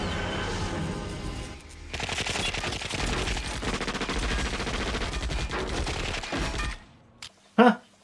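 Sustained machine-gun fire from a movie gang war scene, a dense, loud rattle of rapid shots lasting several seconds before cutting off, followed by a brief short burst.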